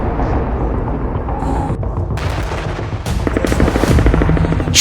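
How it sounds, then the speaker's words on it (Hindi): Air strike explosions hitting Khan Younis in Gaza, heavy booming blasts and rumbling over a dense roar, with sharp cracks and a loud burst near the end. "खान यूनिस पर खूनी हवाई हमले।"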